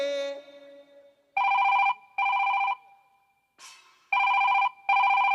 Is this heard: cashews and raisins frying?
no